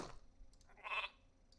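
Sheep bleating in a strategy video game, a single short bleat, fairly faint against a quiet background.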